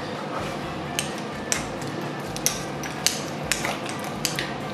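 A utensil clinks and taps against a bowl at a slow, irregular pace while butter, cheese, garlic powder and salt are stirred together, with soft mixing noise between the sharp knocks.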